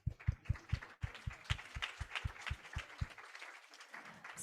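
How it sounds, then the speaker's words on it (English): Applause from a climate change conference audience: faint scattered clapping over a regular thumping beat that stops near the end and leaves a brief quieter tail. "Give them a clap."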